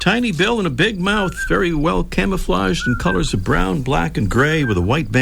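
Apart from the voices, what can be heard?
None of the usual background noises is heard.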